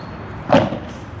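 A padel racket strikes the ball on court, one short, dull thump standing alone against a quiet background hiss.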